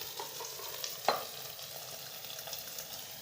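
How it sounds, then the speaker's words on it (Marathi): Ground spice masala of coriander powder and garam masala frying and being stirred in a hot pan, a steady soft sizzle with light scraping strokes and one sharper clink of the spoon near the middle, no talking. "मसाला कसा आहे गरम झाला ना म्हणजे परतून निघतोय मसाला"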